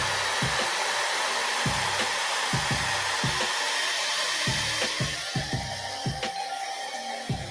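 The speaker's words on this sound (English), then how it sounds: "I think I could do this hair dryer." Hair dryer blowing steadily and loud at close range, used to dry a model during weathering work, with a broadband roar and repeated low thumps as the airflow is moved around.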